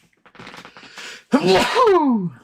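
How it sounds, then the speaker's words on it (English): A quick intake of breath, then one loud, explosive sneeze that trails off with a voiced tail. "Sneeze coming on."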